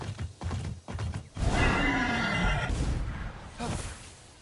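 A Pegasus horse in the video game Immortals Fenyx Rising whinnies loudly in one long neigh, preceded by soft hoof thuds and followed by a brief snort.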